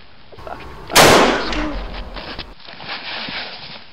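A single loud, sharp gunshot cracks close by, followed by a decaying rumble and a brief echoing tail, with faint movement afterward.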